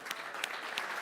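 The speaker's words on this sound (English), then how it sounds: "So a round of applause for Christos." An audience applauding at a professional talk, a dense patter of clapping hands with a few sharper swells, sustained and fairly close for about a second.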